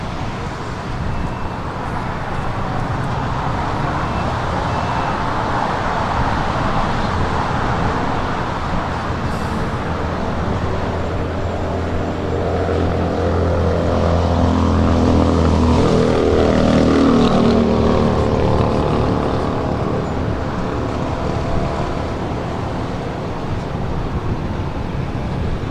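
A KLM Boeing 777-300ER in KLM Asia titles rolls down runway 24 left at Los Angeles International Airport, a broad steady engine roar swelling gradually toward the middle and then easing, heard from a distance with airport background noise.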